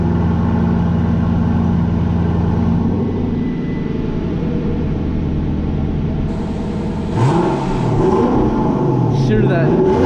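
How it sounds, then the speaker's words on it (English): Lexus LC 500 engine on a cold start, a loud steady high idle droning throughout, then a sharp rev rising and falling near the end, close and dominant. "Look how loud the cold start is."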